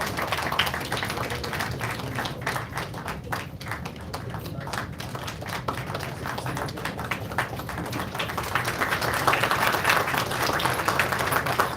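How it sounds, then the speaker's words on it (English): Sustained, somewhat distant audience applause rises slightly toward the end at the 2024 research conclave at IIIT Bhubaneswar, celebrating a chief guest being felicitated, with a dull low background hum. "Let's have a big round of applause to celebrate this moment"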